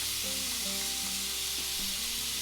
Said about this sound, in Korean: 뜨끈해졌고 볶겠습니다